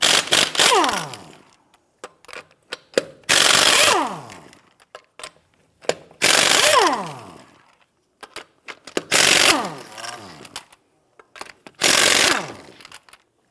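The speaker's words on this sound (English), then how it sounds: "Use a 21mm socket to go ahead and loosen and remove the lug nuts." A socket wrench loosens the lug nuts on a 1992-1996 Toyota Camry front wheel: five loud, close bursts of rapid metallic whirring and ratcheting, separated by brief pauses and small clicks.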